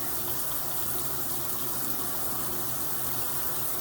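Water from a tap runs through a hose in a continuous hissing gush, close and steady with no pauses.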